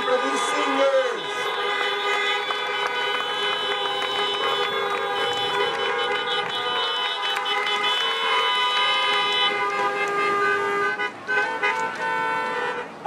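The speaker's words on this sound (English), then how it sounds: "Honk your horn if you're happy for these seniors." Car horns from a senior top-ten parade blare in long, overlapping honks that hold steadily for several seconds, with a few shorter toots, while a voice talks over them.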